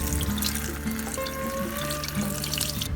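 Fresh chives rinsed under a running kitchen tap, a steady close stream of water splashing into a sink for about three seconds, with faint tonal hums underneath and no talking.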